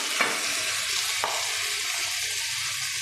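Potatoes are dropped into eggplant frying in a pan. The result is a steady, loud oil sizzle broken by a couple of brief clatters as the pieces go in.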